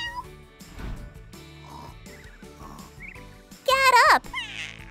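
A cat meows several times in short, separate calls, with a louder, higher drawn-out meow near the end, over light background sounds and a faint child-like voice.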